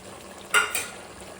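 A spoon stirring chicken with fried onions for biryani in a pan, giving a short scraping swish with a soft sizzle behind it, brief and close.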